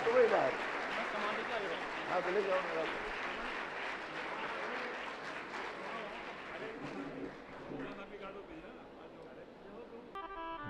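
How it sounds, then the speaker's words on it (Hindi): Applause from a large audience at a Sanatan culture religious gathering in a pandal, dense and sustained with crowd noise and horn-like tones mixed in, tapering toward the end. "जोरदार ताली बजनी चाहिए आप"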